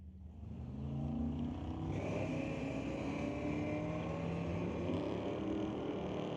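Drag race cars launch down the track at an ET Series bracket race, engines roaring loud and steady after a short build-up, holding a sustained, heavy roar to the end.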